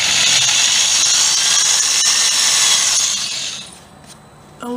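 A power drill bores a shallow divot into a wooden chair part, giving a steady, loud high whine for about three seconds before it winds down and stops, with a brief sharp click near the end.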